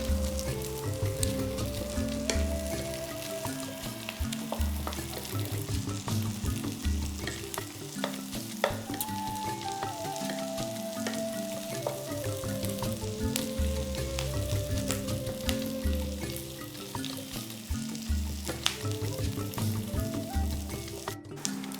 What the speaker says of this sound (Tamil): கேப்சிகம் போட்டு அதுவும் நல்லா வதங்கணுங்க